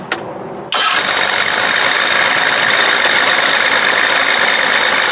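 A 60 hp Johnson outboard motor cranks briefly, then catches and roars to life, settling into a loud, steady close-up running drone with no talking.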